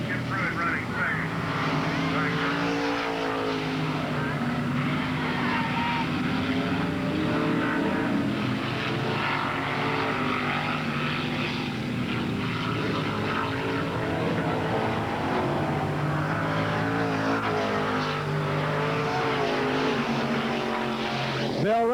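Late model stock cars racing at Ada Raceway, a dense, continuous engine roar that stays loud and steady throughout, with a race announcer talking over it.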